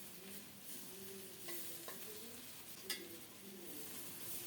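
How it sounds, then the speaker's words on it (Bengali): Shrimp rubbed with salt and turmeric fry in mustard oil with a faint, steady sizzle, with occasional soft stirring scrapes in the pan. "এদিকে সরিষার তেলে চিংড়ি মাছগুলো ভেজে নিচ্ছি লবণ হলুদ মাখিয়ে"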